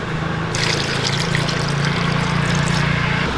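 Water pours steadily into a pot of tapioca with a continuous gurgling splash, close and fairly loud, starting abruptly and running for a few seconds.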